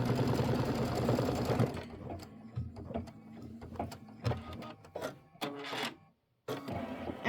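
A sewing machine stitches the tack-down on a quilt block, starting with a loud sustained run of needle strokes, then breaking into short bursts and pauses before falling silent near the end.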